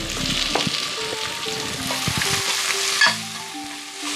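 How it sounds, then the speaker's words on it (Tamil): Ingredients for a mutton liver and bell pepper gravy sizzle and fry in a pan as a spatula scrapes and stirs in quick, irregular strokes, close and fairly loud with no talking. "இதை நான் இப்போ போட்டு வதங்க விட்டுட்டு அதுக்கு கொஞ்சம் சாதுவாக உப்பு போட்டுக்கொள்ளுங்க."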